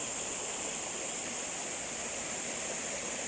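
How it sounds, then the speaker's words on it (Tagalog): Steady rushing water of a river in Limay, Bataan fills the clip, a continuous broadband wash like water flowing over stones, constant in level with no voices. "maririnig niyo po yung lagaslas ng tubig"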